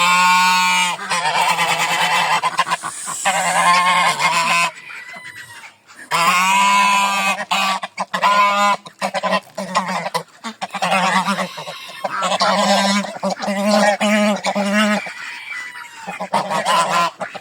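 Geese honk loudly and repeatedly nearby at a village lake in overlapping bursts, with a few short pauses between the calls.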